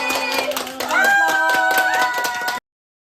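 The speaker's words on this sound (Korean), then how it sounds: "박수 한 번 치면서 끝내볼까?" A group of students at a university trade competition in Sydney claps together, loud and close, while voices cheer over the clapping before it cuts off abruptly.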